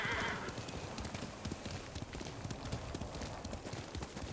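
Horse hooves clip-clop at a steady walking rhythm in the video game Ghost of Tsushima, close and clear, with a brief whinny-like burst at the start and no speech.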